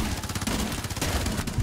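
Rapid automatic P90 fire in Rainbow Six Siege, a dense, continuous burst of close gunshots lasting under two seconds with no talk.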